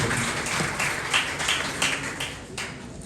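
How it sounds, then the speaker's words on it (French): Applause at an outdoor Miss and Mister pageant competition in Anse-à-Veau, a steady wash of crowd clapping with a few sharper claps standing out, continuous through the short stretch. "Applaudissements."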